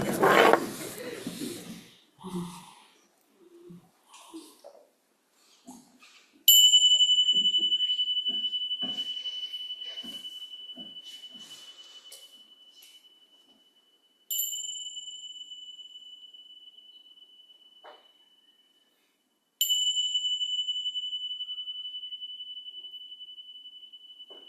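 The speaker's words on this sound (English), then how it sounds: "following the disappearance of the bells" A bell or singing bowl is struck three times, each tone ringing clear and bright alone in a quiet room and slowly fading away, after a few soft scattered sounds at the start.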